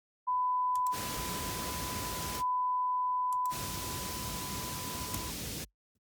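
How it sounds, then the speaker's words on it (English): Two loud bursts of broadband hiss from Cubase's test generator switch on and off abruptly, with a steady pure test tone running underneath. "now when the noise comes on"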